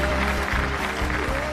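Studio audience applause on a TV dating show, a dense sustained clapping from a crowd, loud and continuous throughout.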